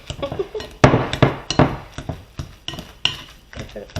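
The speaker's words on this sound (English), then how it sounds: "I like to start by mashing them up. I use my pastry blender." A pastry blender mashes bananas in a bowl: a quick series of metallic clinks and soft squishy thuds in an uneven rhythm, close by.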